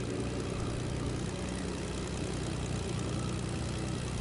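Propeller airplane engine in the Fortnite video game, a steady loud droning hum with a low rumble held throughout and no voices over it.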